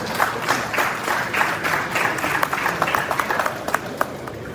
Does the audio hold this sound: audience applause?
yes